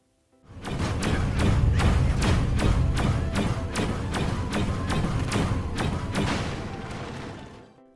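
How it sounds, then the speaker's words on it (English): A building being demolished in the Destroy All Humans 2 video game, with sustained weapon fire breaking it apart. A loud, continuous rumble carries regular heavy thuds at a fast, even pace for several seconds, then fades out. "It took nearly an entire clip to destroy this building."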